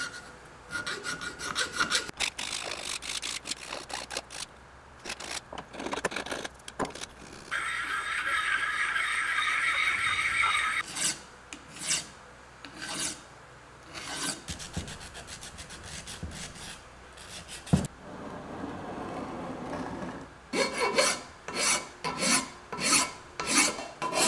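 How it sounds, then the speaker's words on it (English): A hand file scrapes across a large, rusty cast iron vise in steady back-and-forth strokes, a close, gritty rasp with short pauses and a longer continuous stretch, then quicker rhythmic strokes toward the end. "I'm now cleaning this up a little bit with some files"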